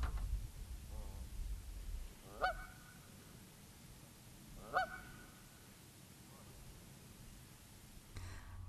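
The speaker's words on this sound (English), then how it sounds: "these geese were just having fun and listening to their honks echoing off the steep" Geese honk in a steep-walled canyon, two distinct loud calls a couple of seconds apart with echoes ringing off the rock, over a steady soft outdoor rustle and a faint third honk near the end.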